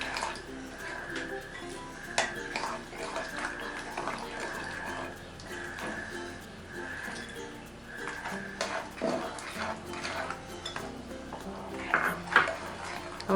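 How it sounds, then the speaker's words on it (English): Milk is gradually stirred into suji (semolina) cake batter in a bowl, with irregular clinks and scrapes of a utensil against the bowl and soft wet mixing sounds, close by. "Gradually add the milk and give a nice mix."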